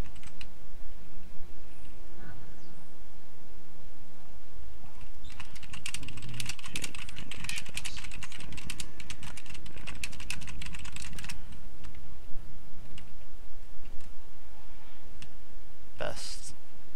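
Rapid clicking of a computer keyboard being typed on, dense bursts of keystrokes through the middle of the stretch, fairly close, over a continuous background hum with occasional speech.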